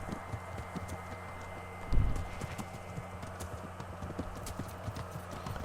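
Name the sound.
horses' hooves clip-clopping in video game Kingdom Come Deliverance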